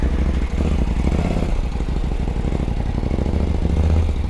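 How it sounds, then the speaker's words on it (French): A motorcycle engine starting and running at a steady mid-pitched idle, close and fairly loud, with a little mechanical clatter and no talk. "si je mets pas la clé, ça ne marche pas bien la moto."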